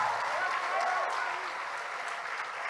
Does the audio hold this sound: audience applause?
yes